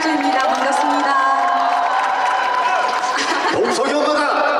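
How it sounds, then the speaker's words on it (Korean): An outdoor crowd at the Busan International Film Festival stage cheers and calls out loudly for actress Han Hyo-joo, a dense, sustained roar of voices and shouts with no break across the moment. "박수 부탁드리겠습니다"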